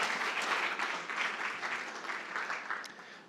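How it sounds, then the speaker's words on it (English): A startup pitch event audience gives a team a round of applause, a soft, distant, continuous clapping that eases slightly as it goes on. "A round of applause for Nevaziuoja."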